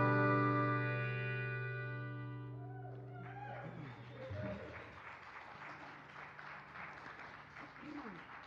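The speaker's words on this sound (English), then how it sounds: "we hope you can hear the applause out there on the live stream" Applause from a live concert audience at the Flickinger Center swells in after a gospel song's final chord rings out, then continues as a dense, steady wash of clapping.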